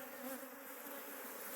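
Honey bees swarm around a hive frame of capped brood, a dense continuous buzzing hum heard close up and fairly faint, with no voices.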